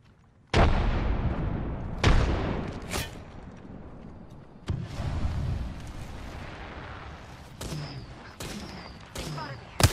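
Frag grenade explosions in a ranked shooter video game: several booming blasts and sharp bursts of gunfire, loud and close, spread across the clip.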